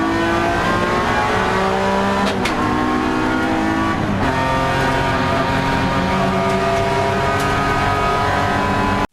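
Improved Production race cars at the start of a 2024 NSW round, with a four-wheel-drive Evo and a Commodore close by. Steady loud engine roar and revving sit throughout, with gear-change dips and shifting pitch as the pack accelerates together.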